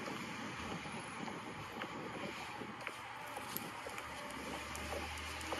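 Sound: wind blowing outdoors

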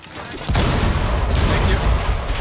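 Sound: shotgun or impact grenade blasting a wall, video game Rainbow Six Siege

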